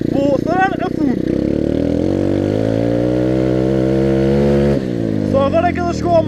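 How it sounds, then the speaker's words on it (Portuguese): A 125 cc pit bike engine is held at full throttle, a loud, buzzing roar that climbs steadily in pitch for several seconds, then drops sharply, with a person speaking briefly near the start and end. "Vou acelerar a fundo."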